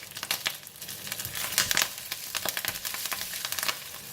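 Cardamom, cloves, curry leaves and fennel seeds sizzle in melted ghee for stir-fried chickpeas, a soft, close crackle with quick popping bursts, fairly quiet and without talking.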